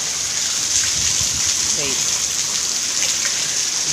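Heavy rain pours down in a steady, loud hiss that fills the clip. A voice speaks briefly over it.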